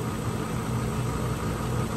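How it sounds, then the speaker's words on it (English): A car engine runs steadily at a low, even rumble around 1100 RPM, close by and continuous, with no clear rise in revs across the short stretch, during air-conditioning system testing. "I'm going to take up the RPMs a little bit."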